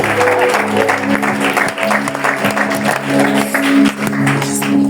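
A church congregation applauding loudly and steadily in praise of Jesus, with a continuous wash of clapping and voices mixed in, and a sustained tone sounding underneath.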